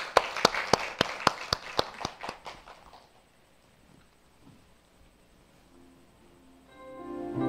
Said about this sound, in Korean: 박수로 초청하겠습니다